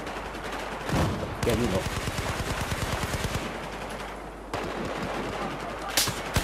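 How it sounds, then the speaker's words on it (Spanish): A light machine gun fires in Battlefield 4, rapid sustained bursts of close, loud shots broken by short pauses and a few heavier single cracks, with someone speaking briefly over the gunfire. "Una ametralladora ligera, yo no soy mucho de estas armas, pero hay que probar"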